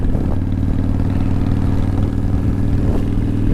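A 1988 Harley-Davidson Softail Custom motorcycle engine rumbles loudly and steadily while riding, with a deep low throb and a faint mechanical clatter throughout.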